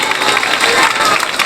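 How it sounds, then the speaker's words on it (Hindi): Loud, dense applause and crowd noise from a church congregation during a Hindi Christian sermon, a steady unbroken wash of clapping for the full short stretch. "जोरदार ताली"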